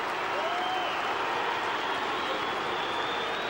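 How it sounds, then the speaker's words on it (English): Dense, sustained roar of a large football crowd booing at an AFL match between Melbourne and West Coast, loud and unbroken with no distinct voices standing out. "Don't know what all the booing's about."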